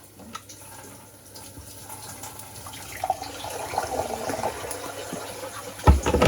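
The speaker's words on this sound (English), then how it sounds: "So we've got a jug here for the 100 ml of water." Tap water runs into a jug for measuring 100 ml during cooking, a steady soft splashing that builds in level as it fills, ending with a louder knock near the close.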